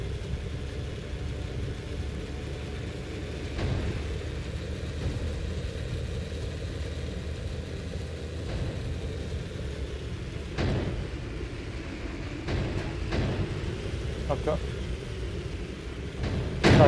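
A tank engine in the video game Sprocket runs at high revs, a steady low rumble and drone that holds throughout with small surges, while a voice talks over it.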